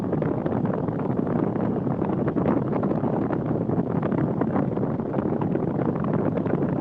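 Steady broadband rush of car air conditioning blowing hard inside the cabin, a constant loud whoosh with no pauses and no talking.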